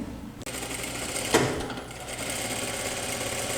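A sewing machine stitches the crotch seam joining the two parts of a trouser leg, running steadily and close up after a short pause, with a single sharp clack partway through.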